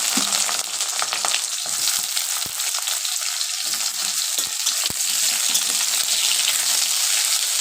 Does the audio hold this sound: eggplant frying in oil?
yes